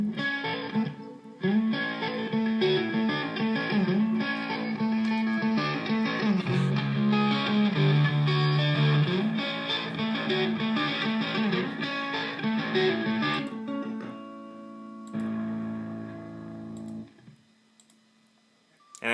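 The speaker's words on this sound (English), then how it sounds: "added a little bit of effects to it with a dynamic delay and a reverb" An electric guitar recorded through an amplifier and DI box with dynamic delay and reverb plays sustained, layered notes. A sharp cutoff leaves a fading tail before a brief final burst.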